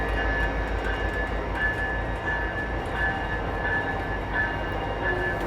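A train at Skagway, Alaska, a steady low rumble of rolling cars with a recurring faint whining tone, moderately quiet and continuous, without talk.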